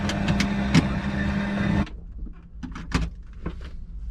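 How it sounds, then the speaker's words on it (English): A Lotus sports car's electric window motor hums steadily for a couple of seconds as the windows close, then stops with a soft thump, followed by faint clicks and small knocks nearby. "Let's close the windows."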